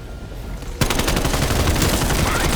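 Automatic gunfire in a Call of Duty game with fire damage, a loud continuous rapid burst of shots that starts abruptly after a quieter stretch and runs to the end.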